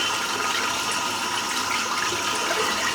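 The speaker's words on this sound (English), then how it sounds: "Just going to rinse the brush out now." A shaving brush is rinsed under a running bathroom tap, a steady, close, fairly loud rush of water that continues without a break and without any talk.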